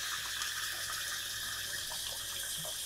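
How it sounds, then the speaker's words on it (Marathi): Water poured steadily into a vessel of washed idli rice and lentils for soaking, a continuous close splashing rush with no talk. "आता हे स्वच्छ धुवून झालं की हे भिजेल इतपत पुरेसं पाणी यामध्ये घालायचं."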